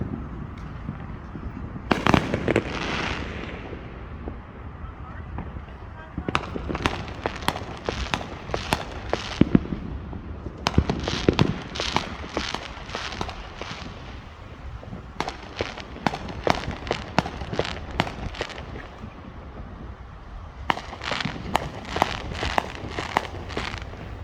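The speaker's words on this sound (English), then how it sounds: "And they're lighting fireworks over there too." Fireworks for July 4th in Katy, Texas, going off at a distance in repeated rapid bursts of crackling bangs, separated by short pauses, over a steady background hum.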